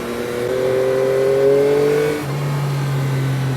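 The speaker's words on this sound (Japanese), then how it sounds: "排気音がものすごくよく聞こえます。" A Yamaha MT-09 motorcycle held in second gear on a quiet mountain road, its exhaust droning steadily and rising in pitch before settling into a lower, even note, close and fairly loud with no talk.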